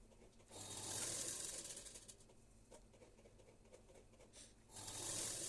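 A sewing machine stitching the hem of blouse fabric, a faint rapid mechanical whir and patter that surges in two runs at the start and end with quieter handling between.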